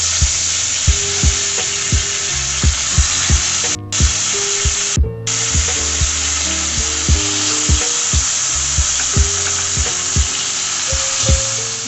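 Koi fish are dropped one by one into hot oil in a kadai, giving a loud, continuous sizzle and spitting crackle with intermittent sharp pops throughout.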